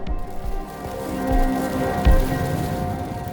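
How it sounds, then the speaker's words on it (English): Rain mixed with hail pattering steadily on a slippery forest path at Multnomah Falls, a dense, continuous wash of drops with a few louder impacts and no talking. "now it's hailing. So, not even just rain, ice on a slippery path."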